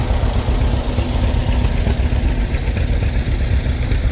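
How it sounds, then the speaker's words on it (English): A 1941 John Deere A tractor engine from Hayward, Iowa, rolling in a threshermen and collectors show tractor parade: a loud, steady low engine rumble close by, continuous throughout. "Right behind it a John Deere A from the same family, Hayward, Iowa, 1941."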